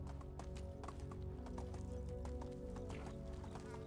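A horse galloping in the medieval village game Medieval Dynasty, a quick steady clip-clop of hooves running continuously at a faint, even level.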